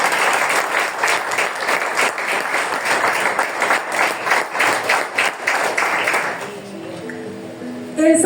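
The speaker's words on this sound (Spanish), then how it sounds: "¿Cuánto le dan un aplauso a Dios por eso?" A church congregation applauds God during a Spanish-language sermon, with steady, loud rhythmic clapping that fades away, followed by a quiet ringing tone at the close.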